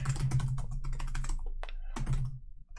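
Rapid clatter of keystrokes on a computer keyboard, close and fairly loud, in quick irregular bursts with a brief pause near the end and no voices.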